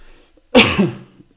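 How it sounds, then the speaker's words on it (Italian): A single close, fairly loud cough from a streamer during a live chat broadcast: one short rough burst with a brief tail, with near silence before and after. "colpo di tosse classico"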